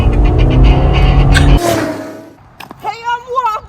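A car accelerating close by with a loud, deep engine roar that builds for about a second and a half, then drops away, followed by a person shouting.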